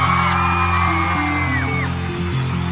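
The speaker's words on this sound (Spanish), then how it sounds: "A ver, un grito en la raza de mero atrás." Audience at a live regional Mexican music concert shouts and whoops loudly in answer to a call from the stage, forming a dense, sustained roar of voices.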